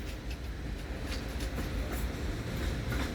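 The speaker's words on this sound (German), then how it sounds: "Einfahrt des ICE 4, das sind 12-Teiler." An ICE 4 twelve-car train rolls into Munich main station, a steady broadband rumble with faint rhythmic wheel clicks running throughout at moderate distance, with no voices.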